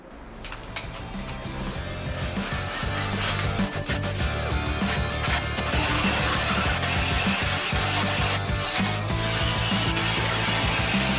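A drill bores holes in a steel Jeep Grand Cherokee bumper, a steady loud whirring grind with brief interruptions early on, then continuous cutting.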